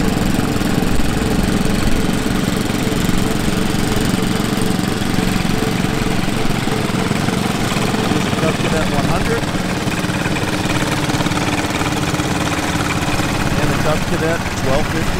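An International Harvester Cadet 1250 garden tractor in a tractor parade runs continuously and loudly nearby, a steady mower-like drone with vibration throughout.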